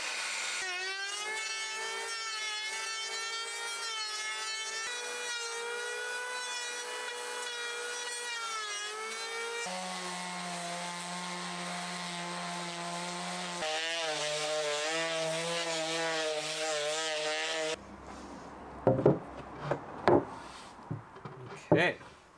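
A power planer shaves wood during a renovation of a 100-year-old stone house. A steady, buzzing whine shifts tone between passes, then gives way to a few short scraping, rubbing bursts of sanding at the end.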